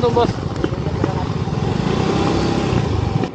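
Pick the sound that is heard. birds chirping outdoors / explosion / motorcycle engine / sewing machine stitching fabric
motorcycle engine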